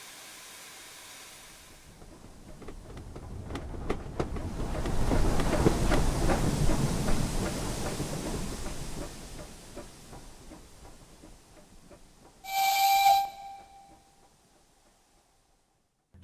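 MR 0-10-0 'Big Bertha' steam locomotive with four large cylinders running in Train Simulator, a rhythmic chuffing that swells in the middle then fades, followed by a short sharp whistle blast.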